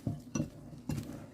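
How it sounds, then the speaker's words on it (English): Three short scraping, clinking strokes of a spoon stirring scone dough with slivered almonds in a mixing bowl, close and fairly quiet. "Again, I'm gonna give it a quick stir."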